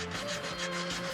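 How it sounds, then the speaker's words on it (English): A sanding block rubs around a round tube in a steady, close, continuous scraping rub with a faint rhythmic pulse, no voices present. "take a sanding block, kind of go around it a little bit to conform with the roundness of the tube."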